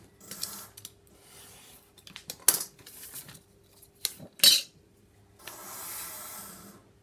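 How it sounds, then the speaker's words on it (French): Scissors snip through a small piece of 3D foam in a few short, crisp cuts with rustling handling in between, close and fairly quiet, with no talking. "Donc je vais couper un petit bout."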